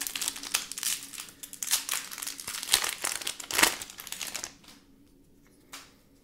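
A foil wrapper on a Time Spiral Remastered booster pack crinkles and tears open in close, loud, irregular bursts of rustling, then quiets to faint handling noise.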